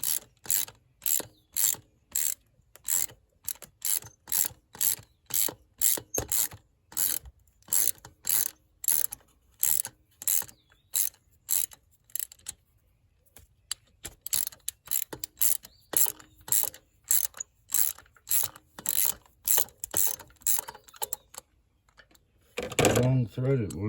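A ratchet wrench loosening spark plugs on a Suzuki Grand Vitara 2.7 V6, a long run of rapid rhythmic clicking strokes, close and steady, pausing briefly midway, then a louder rustle at the end.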